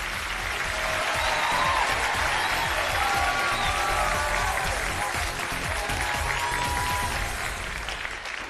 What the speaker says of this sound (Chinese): 来，掌声有请两位，有请。